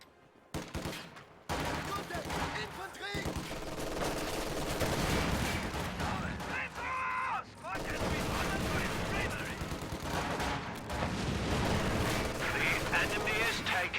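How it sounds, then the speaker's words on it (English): Machine gun fire in a war strategy video game with Panzer Grenadiers and half-tracks: dense bursts of gunfire and booming artillery crackle almost continuously, loud and layered, with game voices speaking over the battle. "Taking machine gun fire."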